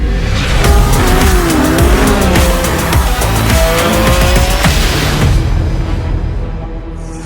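A Porsche 718 GT4 RS mid-engine sports car accelerates hard with loud, sustained engine roar and shifting pitch, tires squealing through the run before the sound fades out at the end.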